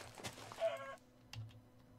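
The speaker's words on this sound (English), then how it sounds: "Chickens!" Chickens in the Minecraft video game give a quick, quiet burst of clucking, one short squawk followed by a fainter cluck, with no one talking.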